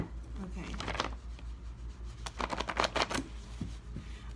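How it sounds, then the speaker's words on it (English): Old, worn tarot cards being shuffled by hand, with bursts of papery riffling and slapping in irregular clusters, fairly close and moderately loud, with a faint voice now and then. "These cards are so old, I should have laminated them. They're hard to shuffle."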